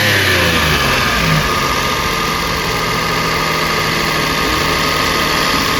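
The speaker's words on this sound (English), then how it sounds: "I'm gonna put some foam in here. So that I get a higher idle on the Justy." A Subaru Justy engine idling at a raised speed with foam wedged on the throttle, giving a loud, steady, close-up drone that holds without variation throughout.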